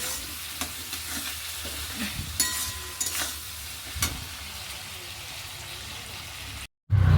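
Continuous sizzle of food frying in fish oil with a few stirring knocks, close and fairly loud, ending in a brief silence.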